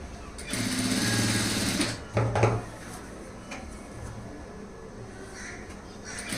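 A sewing machine runs a steady stitching burst for about a second and a half while sewing thread piping onto lining cloth, then stops with a few knocks and clatters, followed by quieter room noise.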